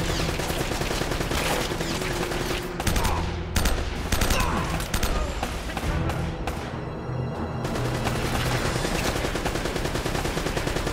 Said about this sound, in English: Who has got the goddamn MG going on over here?